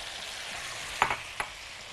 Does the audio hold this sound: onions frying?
yes